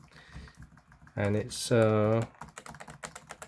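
Rapid, light clicking from the keyboard of a Dell XPS 15 9500 laptop, close by and steady, with a voice talking loudly over it in the middle before the keystrokes carry on alone.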